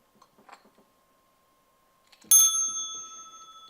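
A single bright bicycle bell ding rings out clearly and decays over about a second, following a few faint soft clicks and rustles in otherwise quiet surroundings.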